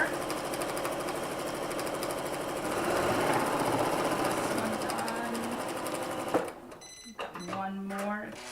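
A sewing machine runs close and steadily as it stitches quilt fabric with black thread, giving a continuous rapid mechanical clatter for about six seconds before it stops. A voice speaks briefly at the end.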